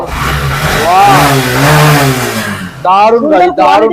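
Motorcycle engine revving at a bike showroom near Kolkata, a steady mid-pitched rev that rises and falls, then a few sharp throttle blips near the end, with talk layered over the engine throughout.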